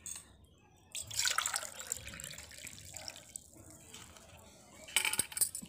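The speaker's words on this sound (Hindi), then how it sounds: "इसमें हम 4 गिलास टोटल पानी डाल रहे हैं।" Water is poured from a glass into rice flour in a kitchen to make papad, two splashing bursts a few seconds apart with quiet pauses between.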